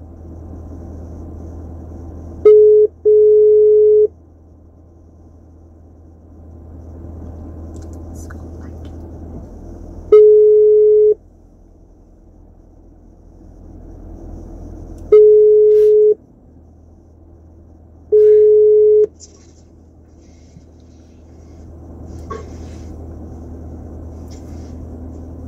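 A phone call's ringback tone sounds as four steady electronic beeps spaced several seconds apart over low background hum, with faint voices murmuring between them.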